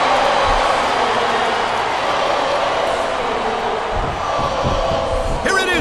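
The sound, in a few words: crowd chanting in wrestling video game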